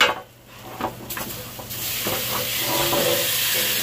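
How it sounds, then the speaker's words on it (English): Oxtails searing in hot canola oil in a pan, a steady close sizzle and hiss that builds and holds after a quieter start, with a few soft clinks of meat being set down. "And we're going to let these sear up as well."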